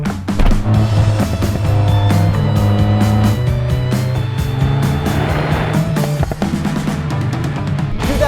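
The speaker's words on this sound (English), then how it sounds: "2018 Jaguar F Type." 2018 Jaguar F-Type coupe with a 4-cylinder turbo on the move: a steady, loud engine drone with some gear-change shifts and road noise, heard from inside the car with no talk.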